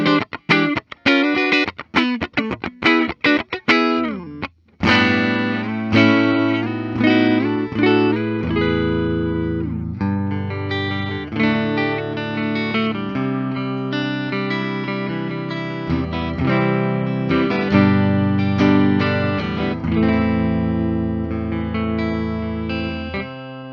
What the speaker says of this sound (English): I'm liking this neck pickup. It's nice and full and boisterous.